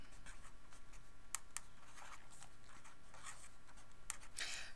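Pen or pencil writing out calculus work on paper, soft continuous scratching strokes with a few sharper taps, close and quiet, no talking.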